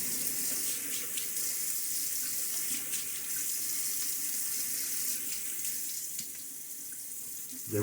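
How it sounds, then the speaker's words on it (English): Tap water runs steadily into a sink for a face rinse after a wet shave, a continuous close splashing hiss that barely changes from start to finish. "we do need to include a face wash, face rinse afterwards"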